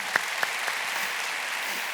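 An audience claps steadily at a Christian youth worship and prayer gathering for school and campus students, a dense, even wash of applause at moderate loudness with no talking.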